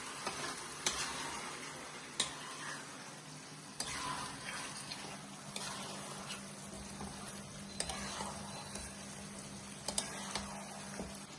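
Chicken with spices for aam pora chicken is stir-fried in a pan: a soft, continuous sizzle with scattered sharp clicks and scrapes from the stirring spoon, and no talking.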